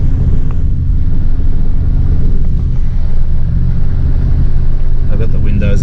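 A car ploughs through a flooded, muddy track, its cabin filled with a loud, constant low rumble and wind-like roar that holds steady throughout, with no talking.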